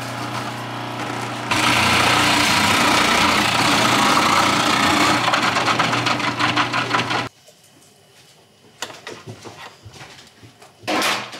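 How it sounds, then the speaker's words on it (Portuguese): A food processor runs loud and steady for several seconds as it grates carrots, its motor whine continuous before cutting out, followed by scattered clinks and knocks. "Vou ralar no processador pra ser mais rápido."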